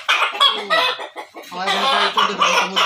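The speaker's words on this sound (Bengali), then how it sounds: "তো দেখেন আমার মুরগি" Brahma hens clucking close by in a backyard flock, a run of loud, overlapping clucks and squawks with brief pauses between calls and no voices.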